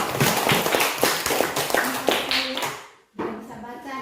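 A classroom group claps in a quick burst of applause that fades out after a few seconds, followed briefly by speech in Indonesian.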